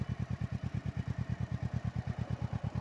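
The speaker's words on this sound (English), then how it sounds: "We're just going to slowly let the clutch out." A Kawasaki Versys 650 twin-cylinder motorcycle chugs at low revs as the clutch is slowly let out, its steady close-up pulsing thump alone and even throughout.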